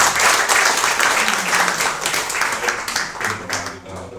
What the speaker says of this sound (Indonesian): Beri tepuk tangan yang baik.